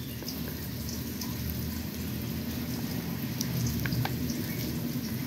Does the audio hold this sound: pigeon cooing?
no